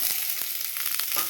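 Nigella seeds, two garlic cloves and thinly sliced onion frying in hot oil for a jute-leaf dish, a steady close sizzle with crackling pops and brief stirring.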